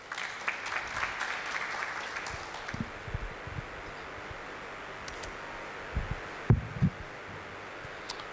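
Applause from an audience greeting Councillor Madlala at a mayoral customer service lecture, a dense patter in the first seconds that thins into scattered claps and a few louder knocks toward the end.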